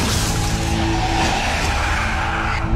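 A car brakes hard and its tires skid in a loud, continuous screech lasting a few seconds, with no one talking.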